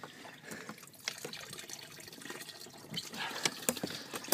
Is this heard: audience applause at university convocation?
no